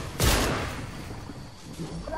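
Video game gunfire in a squad shooter match: one loud close burst of shots, then a fading rumbling tail under faint background noise.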